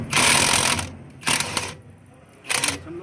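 Ingco impact wrench loosening a bolt, three loud broadband rattling bursts of about a second each, separated by short pauses, close by with no talk.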